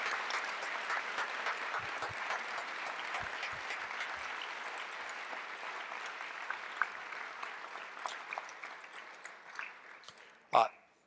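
Audience applause for veterans at a Veterans Day ceremony, a steady wash of many hands clapping that gradually thins out over about ten seconds and ends with a louder closing clap.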